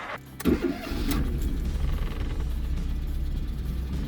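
An old small car engine cranks briefly, catches, and settles into a rough, uneven idle, close and steady, with no voices.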